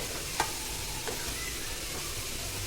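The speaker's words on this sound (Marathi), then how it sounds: "आपला मसाला इथं छान भाजलेला आहे यामध्ये आपण मटणचे पीस घालून घेऊया" Mutton pieces sizzle and fry in roasted masala for a Kolhapuri mutton thali, with a steady close hiss and a few soft scraping stirs from a spoon in the pan.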